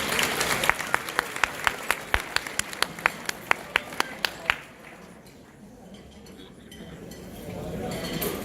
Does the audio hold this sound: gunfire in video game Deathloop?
no